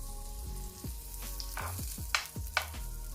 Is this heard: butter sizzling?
yes